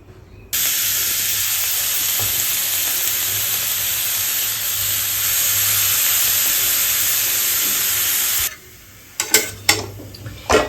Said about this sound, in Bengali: এবার গাজরটাকে ভালো করে আমরা ঘিয়ের সাথে একটু ফ্রাই করে নেব